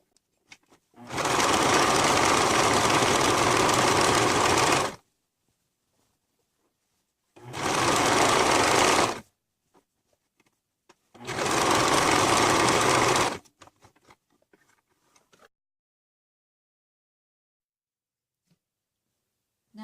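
A sewing machine reinforces a t-shirt seam in three steady bursts of rapid stitching, each a few seconds long, separated by quiet pauses with small handling clicks.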